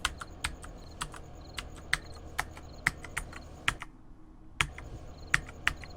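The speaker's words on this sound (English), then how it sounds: "I gotta figure out how to reset my equipment by randomly punching keys on the keyboard." Keys clatter on a computer keyboard in uneven bursts of sharp taps, close and clear, with a brief pause before the typing resumes.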